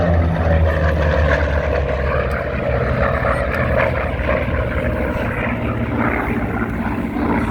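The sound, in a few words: Vought F4U Corsair propeller fighter plane flying past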